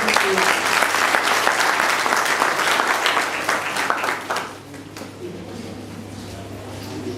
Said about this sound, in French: je préfère qu'on applaudisse